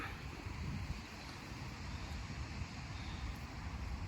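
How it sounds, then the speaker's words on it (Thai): Strong wind blows hard outdoors during mushroom picking, a steady loud roar buffeting the microphone throughout with no voices. "เพราะว่าลมแรงมากเลย"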